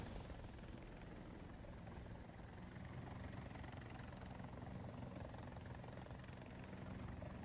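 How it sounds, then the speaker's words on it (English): Aircraft flying overhead in the War Thunder video game, a steady, dense rotor-like engine drone that holds at an even level throughout with no pauses. "I hear a plane."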